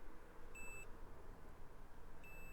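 Two short, high electronic beeps from a multimeter continuity tester sound about a second and a half apart, clear against a quiet hiss.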